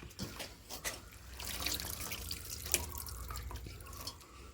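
A tap runs and water drains into a sink during washing, a close, steady splashing stream with a few sharper drips and no talking.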